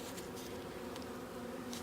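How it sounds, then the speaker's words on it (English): Honey bees buzz inside a weak hive during a spring check, making a steady, close, low drone that holds through the whole moment. "All the bees are like all just right here."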